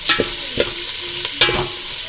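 Masala sizzles and crackles in a hot pan while a spoon scrapes and stirs it in a few quick strokes.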